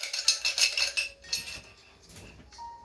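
A cup is shaken so that something inside rattles and clinks against it in quick bright bursts, fading to a few scattered clinks and a faint tone at the end.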